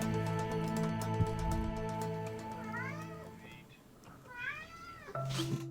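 A pet cat meows insistently for attention, a couple of rising wavering cries standing out over steady background hum and music, close and fairly loud.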